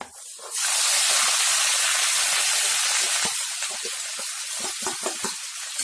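Finely chopped onions hit hot oil in a pan for a dhaba-style egg curry and burst into a loud, steady hissing sizzle that carries on close and continuous with small crackles.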